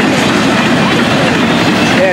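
A Florida East Coast Railway freight train carrying private cars rolls steadily past at close range, with a continuous loud rumble and rail noise filling the whole stretch.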